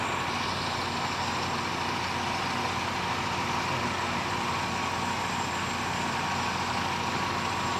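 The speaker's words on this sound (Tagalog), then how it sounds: "Okay pa yung makina, no? Oo, oo. Tahimik pa," A Mazda 323's engine idles quietly and steadily, a low even hum with a fine rapid pulse underneath, holding unchanged for the whole stretch with no talking over it.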